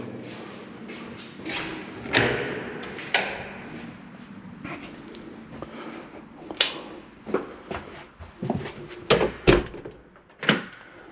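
Apartment building doors are opened one after another, a series of wooden thumps, clunks and latch clicks, some loud and close, spaced irregularly with a rapid cluster toward the end.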